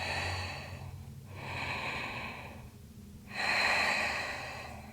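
Slow, deep breaths during a yoga forward fold, three long airy inhales and exhales at close range with a louder final breath, steady and unhurried, no speech.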